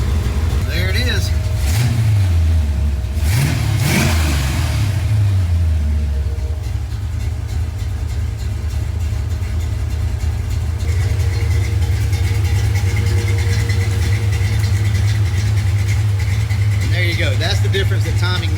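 A car engine, just given a timing adjustment to about 13 degrees at idle, revs up sharply twice in loud rising bursts, then settles into a steady, rumbling idle close by.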